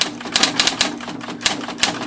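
A Smith Corona portable electric typewriter typing in a quick, uneven run of crisp key strikes, each one firing off sharply at close range and with no voices.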